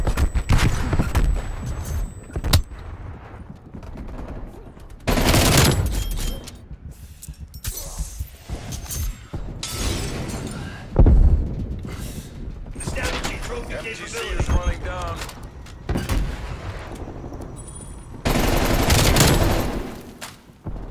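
Gunfire from Call of Duty Black Ops Cold War, with bursts of automatic fire and sharp shots recurring throughout, close and loud, amid mechanical clatter and game effects.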